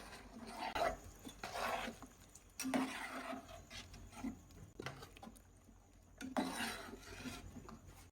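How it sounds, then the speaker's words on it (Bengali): Rice being stirred in a cooking pot for tehari, a spoon scraping and knocking against the metal in uneven bursts with soft grainy rustling between, close and quiet with no talking. "চাল ঢেলে দেওয়ার সঙ্গে সঙ্গে অবশ্যই একটু চালটা নেড়ে দিবেন"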